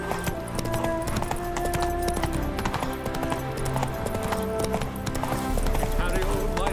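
Hooves of Roach, the horse in The Witcher 3, clip-clopping at a trot in a steady rhythm, fairly close, mixed under continuous game music and ambience with a voice talking over it.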